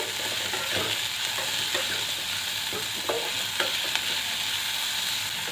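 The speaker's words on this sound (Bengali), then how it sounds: "এই গ্যাসের ফ্লেমটা মিডিয়াম টু হাই ফ্লেমে এটাকে ভাজবো কোনো ঢাকা দেব না" Bread pulao, a bread upma, fries uncovered in a pan over a medium-high gas flame, sizzling steadily while a spoon scrapes and stirs it in scattered strokes close by.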